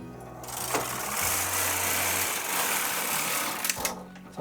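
Singer knitting machine carriage running across a sweater in progress: a steady mechanical whirr and clatter with hum tones, continuous and close, pausing briefly near the end with a few clicks.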